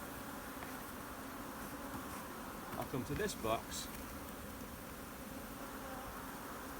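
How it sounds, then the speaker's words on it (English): A colony of queenless honeybees in an open hive makes a continuous buzzing hum close by. Someone speaks briefly over it partway through. "Now the bees, they know that they're queenless and they're not that pleased about it"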